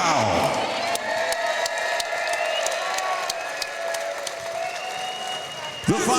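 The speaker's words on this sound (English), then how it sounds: "I'd like you all to give a round of applause to Judge Glenn Feldman" Crowd applauding and cheering at a boxing event, a sustained wash of clapping with scattered whoops filling the whole stretch, with voices mixed into the noise.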